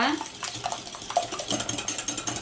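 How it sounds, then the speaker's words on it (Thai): Eggs and sugar beaten with a hand whisk for banana muffins, giving a rapid, even run of close clicking strokes against the bowl that continues throughout. "เราจะผสมนะคะให้เข้ากันนะคะจนน้ำตาลทรายละลายดีนะคะ"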